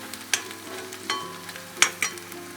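Onions sautéing with meat masala powder and chilli flakes for chicken roast, a close sizzle broken by four quick scraping stir strokes of a spatula against the pan.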